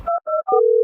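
Phone keypad tones dial a number to call a father: three quick, loud dual-tone beeps separated by short gaps, then a steady tone that holds to the end.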